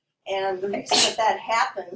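A single sharp sneeze bursts out in a classroom during an algebra lesson, loud and close, while a teacher keeps talking before and after it.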